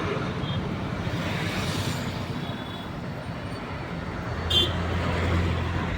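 Heavy road traffic in Hosur, with a steady roar of vehicles passing close by, a brief high horn-like tone partway through, and a low engine drone rising near the end.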